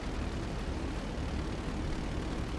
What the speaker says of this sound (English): A helicopter's dropping away like something's happened to it.